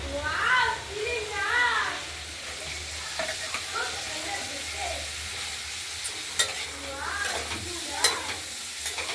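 Chopped cauliflower and small potato pieces fry with panch phoron in a wok, a soft sizzle and scraping stir sounds running underneath someone talking throughout, with a few sharp clinks of the spatula.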